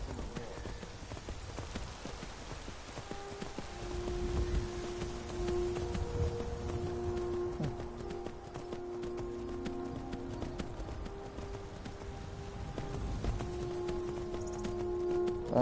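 Horse hooves clip-clop steadily in Skyrim, an even rhythm of close, moderately loud footfalls with faint tonal music underneath and no voices.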